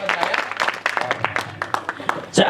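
Audience claps at a Hindi poetry recital at a kavi sammelan, scattered, uneven bursts of applause mixed with someone speaking loudly over it and cries of appreciation from the crowd.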